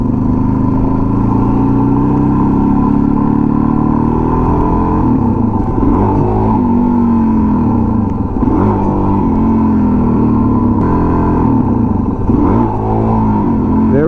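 A motorcycle engine in first gear, ridden by someone learning wheelies, drones loudly and close, with repeated surges in revs rising and falling every couple of seconds over a steady mechanical hum.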